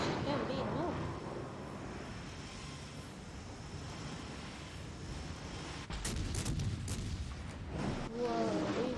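Battleship shells fire in World of Warships: Legends from a tier 5 American battleship, the New Mexico. A dense run of booming gunfire and rumble, with sharp bursts in the later seconds and a voice talking over it.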